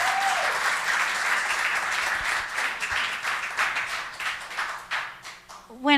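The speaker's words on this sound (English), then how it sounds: "So let's give a big round of applause to our 2021 District Junior High Teacher of the Year, Rebecca Robledo." Audience applause fills a school district board meeting, a steady dense wash of clapping from many hands that continues throughout and swells slightly near the end, with some voices under it.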